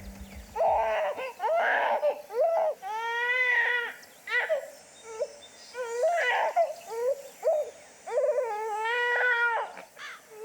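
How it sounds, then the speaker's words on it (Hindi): A baby cries in repeated wailing bursts with rising and falling sobs, fairly close and loud, continuing for several seconds with brief pauses between cries. "बच्चा रो रहा है यार।"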